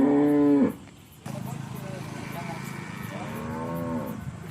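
A Holstein Friesian calf gives loud, close moos, one at the start and a longer drawn-out one near the end, with quieter farmyard background noise between them.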